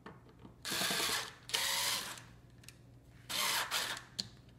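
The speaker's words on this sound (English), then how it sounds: "Now we have two screws here that we need to remove." A power screwdriver backs out screws from a wall outlet being swapped for a USB outlet, with three quiet whirring bursts of about a second each, interspersed with soft clicks and handling sounds, close up and without talk.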